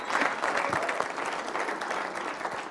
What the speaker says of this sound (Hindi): एक बार जोरदार तालियों के साथ स्वागत करें ऋतु जी